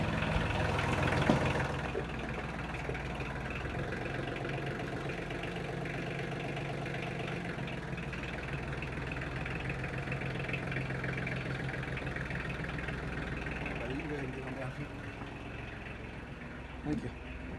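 A tractor engine idles steadily and continuously at close range in a farm workshop loft setting, a low rumbling drone with a brief louder knock near the start and another near the end.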